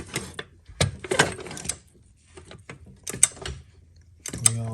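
A hydraulic jack is worked under a Chevy Cruze, giving close, intermittent mechanical clicks and ratcheting clunks in short bursts separated by quiet gaps.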